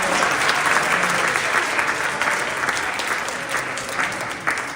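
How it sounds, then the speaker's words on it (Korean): A church congregation at a Sunday service claps in steady, dense applause that holds for several seconds and tapers slightly at the end, filling the room evenly. "박수 한번 쳐주세요."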